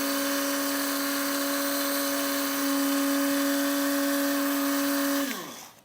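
An electric grinder whirs steadily with a strong tonal hum as it grinds coffee beans, running loud and close at an even pitch before the motor cuts off and spins down at the end.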